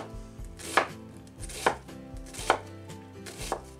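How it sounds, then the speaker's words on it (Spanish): A knife chopping potatoes into small brunoise dice on a cutting board, four crisp, evenly spaced knocks close up, with faint background hum between strokes. "seguimos cortando las patatas en brunoise"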